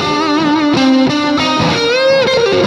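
Loud, heavily distorted electric guitar with sustained notes that hold and shift in pitch, amplifier feedback singing back into a humming tone.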